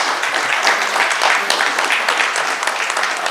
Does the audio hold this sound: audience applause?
yes